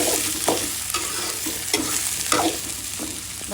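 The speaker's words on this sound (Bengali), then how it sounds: "একসাথে এটা ভেজে নিব, ভেজে তারপরে আলুটা দিয়ে দেব।" Tomato and eggplant fry together in a pan, a continuous sizzle broken by periodic scraping stirs of a spatula, close and steady with no talking.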